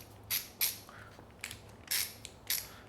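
A Milwaukee ratcheting screwdriver clicks and whirs as it is handled, giving six crisp ratcheting bursts in an uneven rhythm, close and clear with no talking.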